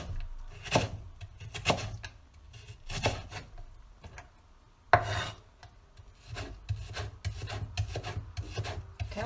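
A kitchen knife slicing through potato slices into long shreds on a cutting board, a series of close, crisp chops and rasping strokes in an uneven rhythm with short pauses between bursts.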